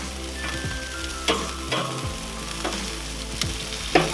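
Chicken wings sizzling on a Char-Griller Dual Fuel Pro grill, a steady close frying hiss broken by several sharp clacks and scrapes of turning the wings with a tool.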